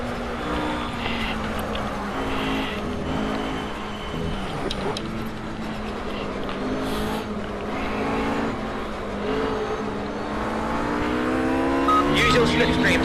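GT3 race car engine in the Project Cars video game: a continuous loud droning engine with rising and falling revs through gear changes, racing alongside other cars, with someone talking over it.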